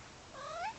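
A house cat gives a single rising, drawn-out meow, clear and close, with no talking over it.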